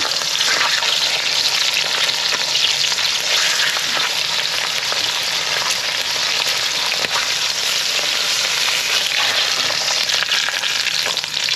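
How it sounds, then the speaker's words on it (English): Beef pieces browning in a pan for brasato give a loud, dense, continuous sizzle with crackling spatter, close up and steady throughout, with no talking. "You have to brown it very good, because that's going to help with our gravy in the end."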